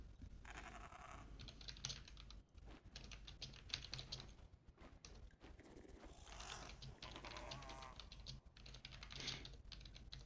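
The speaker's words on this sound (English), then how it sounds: "I'm typing quickly, replying to a message, to a private message." Rapid computer keyboard typing in bursts of quick clicking keystrokes, close and fairly loud, with brief pauses, over a low steady hum from a game running during a Torchlight 3 session.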